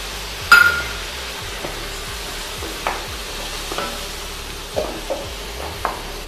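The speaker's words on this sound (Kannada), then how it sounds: "ಇದನ್ನು ಚೆನ್ನಾಗಿ ಫ್ರೈ ಮಾಡಿಕೊಳ್ಳ." Onions fry in a pan for a fish curry as tamarind juice goes in, giving a steady sizzle under a few sharp stirring clinks of a spoon against the pan, with no talking.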